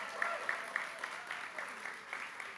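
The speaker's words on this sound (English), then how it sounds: "can we give them a round of applause?" Applause for volunteers at a poetry open mic event, a fairly quiet patter of claps with sharper individual hits scattered through, sounding somewhat distant and thin, as if from a small audience.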